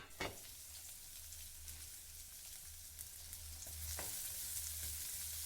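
Thinly sliced onion and curry leaves sizzle and fry steadily in a pan, with a couple of stirring scrapes and a faint low hum underneath; no voices.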